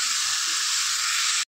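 Broad bean seeds, flat beans and tomatoes hit a hot pan with a loud, steady hiss and sizzle that holds evenly before cutting off abruptly near the end.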